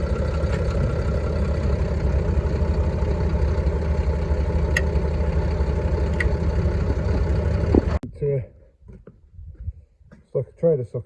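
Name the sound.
New Holland T7.315 tractor engine idling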